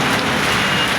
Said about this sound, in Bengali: দেখেন কি বৃষ্টি